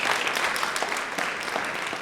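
An audience at a high school fall instrumental concert applauds, a dense steady wash of many hands clapping that carries through the room at moderate volume, with no voices over it.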